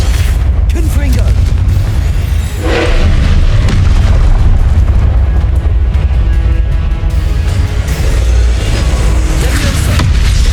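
Blasting Confringo spell explosions in Hogwarts Legacy, a loud, continuous barrage of booming bursts with a sharper blast near the three-second mark, dense and close throughout.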